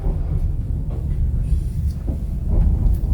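Steady low rumble of a double-decker passenger train running, heard from inside the carriage, a continuous rolling drone with faint clatter throughout.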